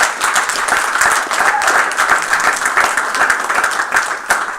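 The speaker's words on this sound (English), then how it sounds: "I think that deserves a round of applause, honestly." A round of applause at a school board meeting honoring a teacher's 35th year, steady dense clapping from a room of people lasting several seconds, loud and close.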